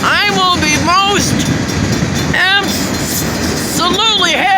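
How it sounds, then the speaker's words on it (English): A train rolls along the tracks at a road crossing on M156 in Morenci, Michigan, its wheels and cars rumbling steadily and fairly loud, with repeated horn-like tonal blasts sounding over the continuous rail noise. "I hope this train blocks the road."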